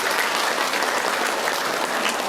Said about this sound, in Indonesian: Jadi tepuk tangan dulu ya